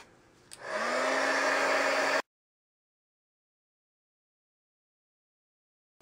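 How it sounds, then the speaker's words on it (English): A handheld heat gun blasts hot air to melt embossing powder on a Valentine paper craft, a steady loud whooshing roar running about two seconds before cutting off abruptly, followed by silence. "So this just needs to be heated up, and we'll heat it up with our heat gun"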